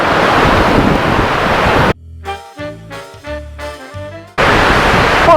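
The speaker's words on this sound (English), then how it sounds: "Except it's super windy." Strong wind roars steadily across deck 8 of the cruise ship Norwegian Aqua, cutting out abruptly for a couple of seconds before gusting back in just as loudly.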